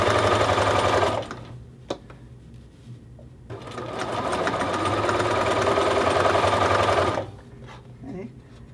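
A sewing machine stitches a men's shirt collar in two long continuous runs of rapid mechanical whirring and clatter, loud and close, with a short pause between them and a brief tail after.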